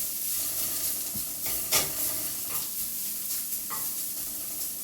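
Brussels sprouts sauteing and browning in a pan: a continuous close sizzle and hiss with a few brief scraping bursts as they are stirred, and no voices.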